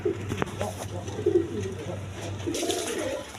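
Several pigeons of various breeds coo in short, throaty bursts close by, a few distinct calls over a low steady hum, with faint background murmur.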